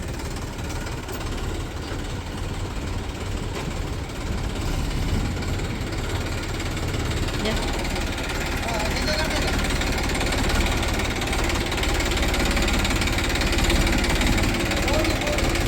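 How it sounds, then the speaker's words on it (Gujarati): A tractor engine runs in a village, a loud, steady low rumble with a rapid knocking beat that continues for the whole stretch and swells slightly toward the end. "ટ્રેક્ટર આવ્યું"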